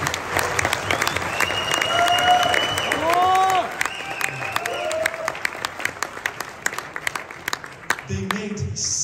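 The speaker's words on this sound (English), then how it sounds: "please kindly make a round of applause for the developers of ZENIQ" A conference audience applauds the developers of the ZENIQ SmartChain, steady clapping mixed with crowd noise and some whistle-like tones, the applause dropping away near the end.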